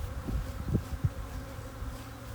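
Honey bees from a caught swarm drone continuously around a hive box, a soft, close, even buzz with a few louder passes of individual bees, no voices.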